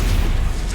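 A Stupefy stun spell hits in Hogwarts Legacy on Xbox, giving a brief, loud booming thud with a rumbling low tail, heard alone.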